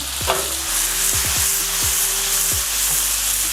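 Gnocchi sizzle steadily in browned butter in a pan, and a few distinct knocks and clinks of stirring sound over the continuous frying hiss.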